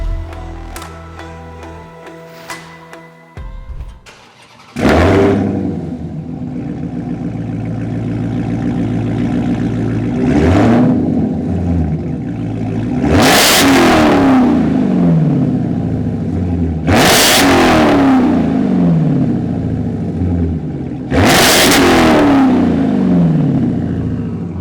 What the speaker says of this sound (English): give you guys a listen to how it sounds with the new exhaust